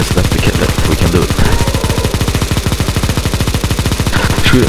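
Continuous rapid-fire automatic gunfire in a CS:GO Zombie Escape mod match on the necromanteion map, loud, relentless and evenly paced throughout with no pauses.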